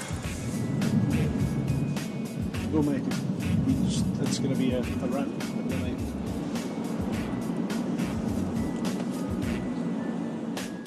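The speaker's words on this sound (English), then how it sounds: "It's gridlock, and they're about to come to a standstill." Road traffic stuck in a gridlock jam, a steady drone of idling and slow-moving engines close by that runs through the whole stretch, with people talking over it throughout.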